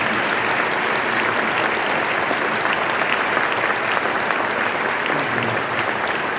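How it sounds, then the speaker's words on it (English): An audience at an Army luncheon gives sustained, dense applause for soldiers, a steady wash of many hands clapping throughout without a break. "So a big round of applause for our troopers."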